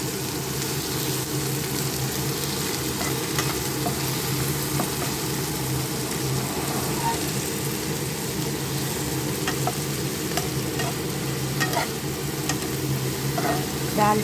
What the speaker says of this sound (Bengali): সব মিক্স করে দিচ্ছি ভালো করে। এগুলো একটু ভাজা ভাজা হবে।